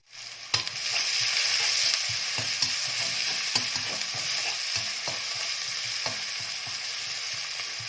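Pounded chilli paste with shallots, garlic, lemongrass and galangal sizzles loudly in a pan, with a steady hiss and regular scrapes and knocks of a spatula throughout.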